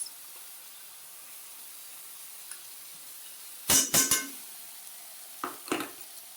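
Mustard, poppy seed and dried chilli paste hits a hot pan, giving a sharp, sputtering sizzle in a few short bursts, followed by a softer crackle shortly after.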